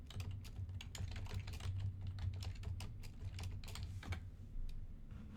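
A prompt typed on a computer keyboard, heard as a quick, steady run of soft key clicks close by, with no talking.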